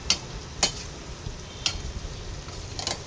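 Spoon tapping the pan while stirring potato and tomato curry frying in oil, a few sharp clicks spaced irregularly over a low, soft sizzle, with no talking.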